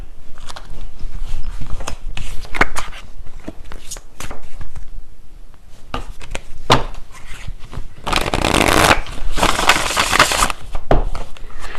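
Tarot cards are handled and shuffled at close range: scattered soft taps and rustles give way to a dense, papery riffle burst about two-thirds through, then a few more light shuffling clicks.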